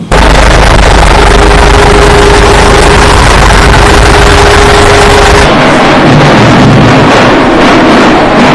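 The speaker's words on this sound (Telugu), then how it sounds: "సభ్యులందరూ విగ్రహాన్ని ట్రాక్టర్లో తీసుకుని ఊర్లోకి ఆనందంగా వస్తారు" A heavy tractor engine rumbles loudly and steadily, close by, with a deep low drone that shifts to a rougher texture partway through.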